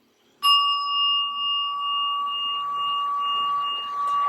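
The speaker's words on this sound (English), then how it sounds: "Let's ring the bell and get started." A single bell is struck once and rings out clearly, its bright metallic tone sustaining and slowly fading with no voices.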